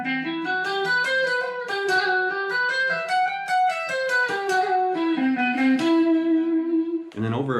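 Guitar picked close to the bridge to imitate a Japanese koto, playing a bright, twangy pentatonic melody of plucked notes with clear sustain, alone and steady, ending with a short lower strum.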